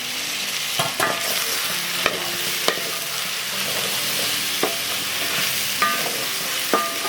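Chicken masala for Andhra-style Raju gari kodi pulao roasts in a pot on low flame, a steady loud sizzle broken by repeated scraping clicks as it is stirred, with no talk.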